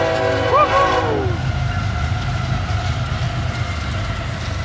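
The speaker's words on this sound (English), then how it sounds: "here's an NS train coming." A southbound Norfolk Southern intermodal freight train at Lewis Center Road sounds a rising horn blast early, then roars past nearby with a steady rumble and rail clatter.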